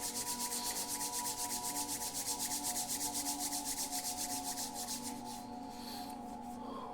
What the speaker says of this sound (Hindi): दोनों हाथों को जोड़ लें और जोर से रब करें।